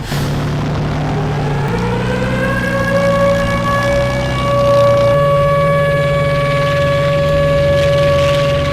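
A loud, sustained air raid siren wails with a steady droning pitch that shifts slightly and swells toward the end, with no voices.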